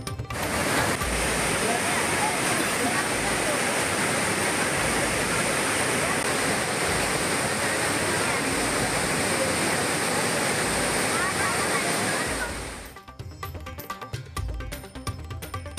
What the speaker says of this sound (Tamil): தொடர் மழையால் குற்றால அருவிகளில் வெள்ளப்பெருக்கு.